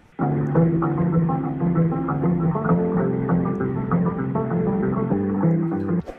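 A distorted Martin acoustic guitar track plays steady, thick, hefty chords that sound loud and sustained from start to finish, with no voices.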